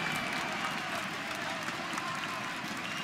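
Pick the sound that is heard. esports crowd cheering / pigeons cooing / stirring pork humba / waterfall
esports crowd cheering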